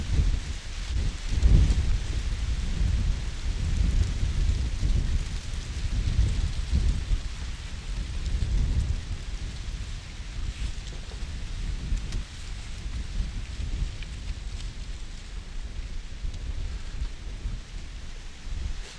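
Steady wind roaring and buffeting close by on a pier at Surrey Quays, London, with gusts swelling and fading, constant throughout and no voices.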